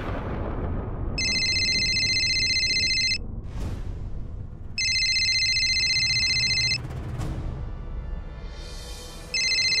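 A mobile phone rings in repeated electronic tone bursts, about two seconds each with pauses between, loud and close over a low rumbling background in a home.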